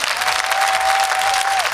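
A studio audience at an X Factor gala concert breaks into dense, steady applause after a singer's performance, a continuous crackle of many hands without a pause, with a host's voice briefly over it.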